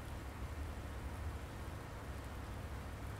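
Steady, faint rain hisses evenly in the Farming Simulator 19 video game, with no other sounds breaking through.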